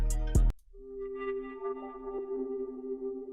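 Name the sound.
second synthesizer from one-shot kit, texture-like sound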